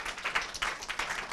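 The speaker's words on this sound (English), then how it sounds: "Again, round of applause, Andrew." An audience claps for Andrew, steady, fairly soft applause with dense overlapping hand claps and no voices over it.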